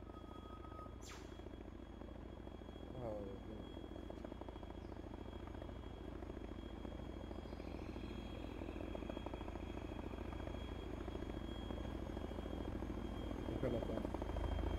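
Chinook transport helicopter in the game ARMA 3, a steady rotor drone holding throughout as it approaches, with faint talk over it.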